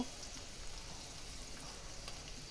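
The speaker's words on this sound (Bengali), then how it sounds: "হলুদটা দিয়ে আর একটু লাইটে চেড়ে নিব" Onion and shrimp fry in a pan with turmeric added, giving a steady, soft crackling sizzle that stays even throughout, with faint bubbling pops and no voices.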